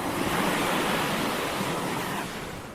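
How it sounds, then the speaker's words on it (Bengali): Sea waves roaring at Cox's Bazar beach, a broad steady surf rush that fills the whole clip loudly and evenly, easing slightly toward the end, with no voices. "সমুদ্রের গর্জন? কতটা শুনতে পাচ্ছেন জানি না"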